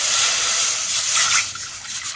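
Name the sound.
water being poured into a pot for bottle gourd soup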